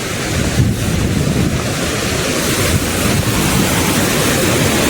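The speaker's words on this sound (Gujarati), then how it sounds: "વહેતું પાણી" Water pours over the overflowing Shetrunji dam in the monsoon, a loud, steady, broadband roar that runs without a break, with wind buffeting the microphone.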